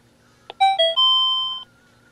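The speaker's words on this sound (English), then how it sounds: "it's almost 5, so it'll do the chime and say it's 5 p.m." A vintage Micronta VoxClock 2 talking clock plays its hourly chime: a single clear electronic ding-dong doorbell-style tone sequence, close and alone, ringing for about a second before stopping.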